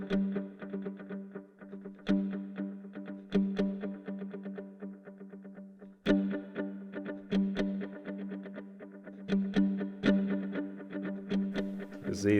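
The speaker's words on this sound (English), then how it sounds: "There's a looper, so I can set up a little delay, kind of. I have to play open strings. Get a little reverb." Plucked open strings on a mandolin, miked with a Schertler DYN-M P48 and run through a looper with delay and reverb, repeat in a steady rhythmic pattern, each note trailing into echoes.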